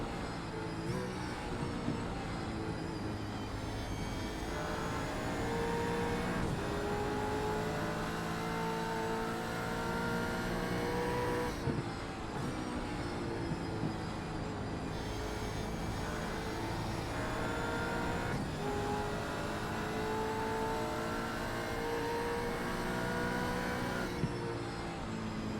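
Engine note of a V8 Supercars race car lapping an oval circuit at Iowa in a racing video game, a steady droning roar with rising and falling pitch sweeps as the car shifts and accelerates, continuous throughout with no talk.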